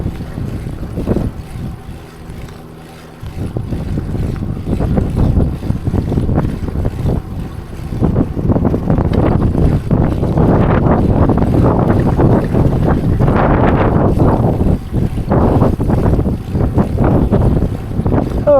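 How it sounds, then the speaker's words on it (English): Strong, continuous wind buffeting a microphone on a moving bicycle heading into a headwind, a loud low rumble that swells and gusts throughout, with no talking. "now the wind's head on, and I can feel it"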